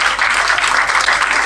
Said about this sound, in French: Ça applaudit.